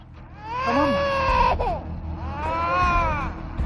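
An infant cries in a Turkish drama, with wailing, harmonic cries rising and falling in two long bursts close by, no speech over them.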